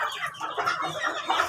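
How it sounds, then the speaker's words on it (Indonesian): Free-range village chickens clucking close by, a busy overlapping series of short clucks and squawks from several birds, with no talk. "kemudian kita fokus ke ayam yokere"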